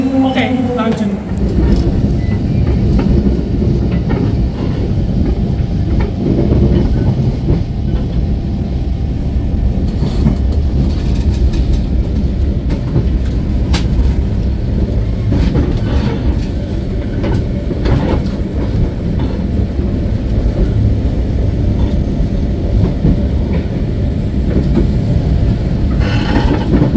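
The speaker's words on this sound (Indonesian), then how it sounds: "Keretanya mau berangkat" An Argo passenger train pulls away and runs on, a loud continuous rumble of wheels and carriage with steady rattling, heard from on board with murmuring voices in the background.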